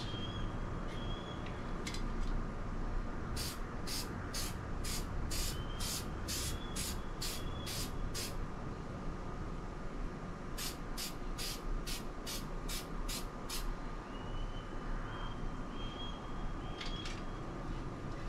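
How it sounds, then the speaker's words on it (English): Bursts of hissing aerosol spray come in quick repeated passes as a light coat goes onto a panel, two rapid series of short sprays over a steady background hum. "we're going to spray this on our panel for our light coat"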